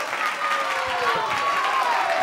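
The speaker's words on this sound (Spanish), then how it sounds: "vamos a dar un aplauso al muchacho" TV studio audience applauding a young guest on a variety show, continuous clapping and crowd noise with voices and cheering mixed in.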